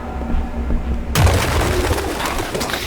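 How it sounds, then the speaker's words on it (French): Pigeons coo in the game Detroit Become Human, a low soft cooing that rises suddenly out of a quiet scene and carries on under a dense wash of ambient game noise. "Ah bah les voilà les pigeons."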